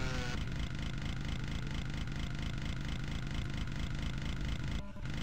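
A chainsaw revs steadily in the classic video game Doom, a loud continuous engine buzz that drops out briefly near the end.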